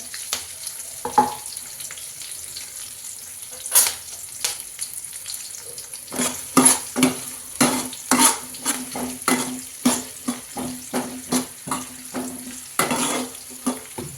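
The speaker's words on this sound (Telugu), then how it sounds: "పచ్చిమిర్చి ఆనియన్స్ బాగా వేయించుకుందాం" Green chillies, curry leaves and onions fry in hot oil in a pan for street-style peas chaat, a steady sizzle broken by repeated scraping stirs that come in a quick rhythmic run toward the end, close and clear with no talk.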